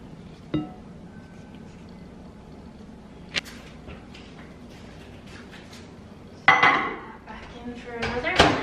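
A spoon clinks against a bowl while melting butterscotch mixture is stirred in a kitchen, sparse taps at first, then a denser burst of scraping and clattering toward the end, close by.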